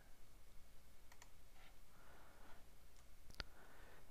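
A computer mouse clicks a few times quietly while someone works in sales-reporting software, with soft isolated clicks over faint room noise.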